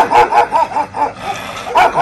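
Dogs kept indoors at a house bark in a rapid series of loud, close yips and woofs, a run of about five, a pause, then a couple more, with no voices over them.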